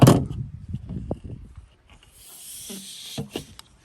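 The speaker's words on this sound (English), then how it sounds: "All you have to do is pop the old lock out." An old RV door lock on a fifth-wheel trailer is pried and popped out, with a run of close knocks, clicks and rattling mechanical handling sounds, then a brief scraping rustle.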